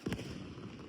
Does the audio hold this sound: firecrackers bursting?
yes